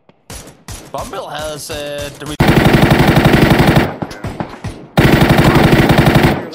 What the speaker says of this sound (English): tell me that's not a full auto gun